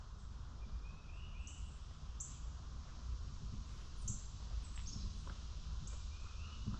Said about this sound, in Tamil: நீங்கள் அந்த குருவி சவுண்டு கேட்டுக்கீங்க.